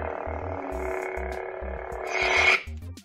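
DamienSaber lightsaber shutting off: a pulsing electronic hum that swells into a brief bright rising whine near the end, then drops away and fades quickly, alone without talk.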